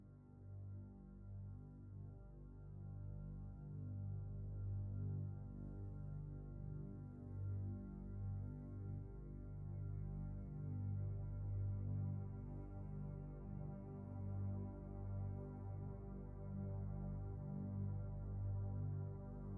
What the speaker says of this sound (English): It's just the ice machine.